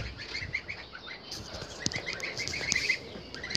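Young Normandy goslings call in a steady stream of small, repeated high peeps, close by and fairly loud, with a few sharper calls standing out and no talking.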